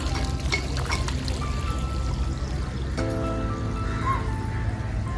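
Water pours and splashes at the foot-washing spot outside Siddheshwar temple in Solapur, a steady running trickle heard under busy background noise from the crowd.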